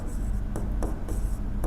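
A name handwritten with a pen, short scratchy strokes in a few quick bursts, close and steady over a low background hum.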